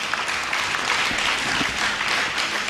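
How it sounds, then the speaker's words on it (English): A conference audience applauds with dense, steady clapping that holds at an even, fairly loud level throughout, with no one speaking. "Put your hands together."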